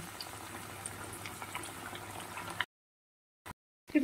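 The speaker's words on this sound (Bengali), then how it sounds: "চিকেনটা ভাজা হচ্ছে" Chicken pieces frying one by one in hot oil in a kadai over a medium flame. A soft, steady bubbling sizzle lasts a few seconds, then drops to silence with brief bursts of noise.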